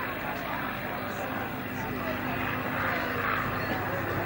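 A Spitfire flying overhead at the 1991 Leicester International Air Display at Stoughton, a steady propeller-engine drone at a distance beneath a commentator speaking over a PA.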